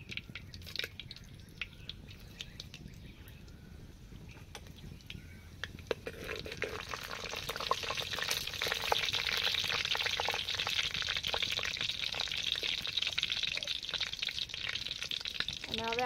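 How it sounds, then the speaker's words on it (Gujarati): Red chillies, cinnamon and cumin spit and sizzle in hot oil over a wood fire, a quiet crackle that swells into a steady, loud hiss halfway through and keeps going. "તેલ ગરમ થઈ ગયું છે, એમાં આપણે લાલ મરચાં, તજ અને જીરું નાખી દઈએ."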